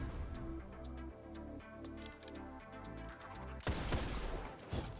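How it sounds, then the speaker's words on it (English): SMG fire in the video game Destiny 2, a rapid sustained burst of shots rattling continuously, then a louder, denser crackle of impacts toward the end, with no talking. "if I just hold down mouse 1, you can start shooting nearly instantly"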